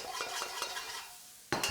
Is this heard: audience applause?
no